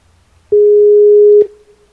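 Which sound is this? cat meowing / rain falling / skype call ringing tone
skype call ringing tone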